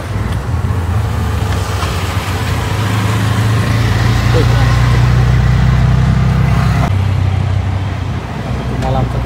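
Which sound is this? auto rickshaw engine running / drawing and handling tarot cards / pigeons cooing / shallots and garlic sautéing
auto rickshaw engine running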